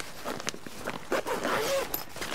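A zipper on a Valken paintball rolling gear bag is drawn open in a few quick scratchy pulls, close and fairly quiet, with small handling rustles around it.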